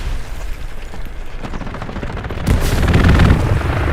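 Strafing-run gunfire in the World War II shooter Hell Let Loose on Omaha Beach, a steady crackle of rapid shots that swells into a louder, rumbling barrage of blasts in the second half, with no talk.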